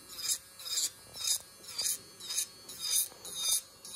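A nail file rasps over chunky glitter nail polish in quick, even back-and-forth strokes, about two per second, close and fairly quiet, with no talking.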